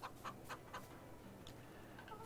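Chickens in Farming Simulator 22 cluck in soft, repeated bursts over a steady low ambient bed, fairly faint and without speech.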